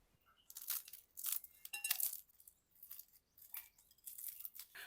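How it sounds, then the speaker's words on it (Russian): Crisp crunching and cracking of freshly baked Turkish börek pastry in several short bursts, close and fairly loud, with brief pauses between each break. "Слышите, как он хрустит?"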